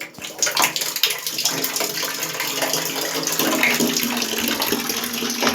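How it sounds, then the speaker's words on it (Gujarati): Hot water runs steadily from a tap into a bath, a continuous broadband splash and rush at close range with no talking. "ગરમ પાણી ચાલુ કરીને ઉતરે નાવું પડે આપણે."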